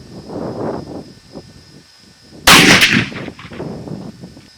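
A single loud rifle shot fired downrange at an outdoor shooting session, a sharp near blast with a short rumbling tail, after quieter sounds at the start.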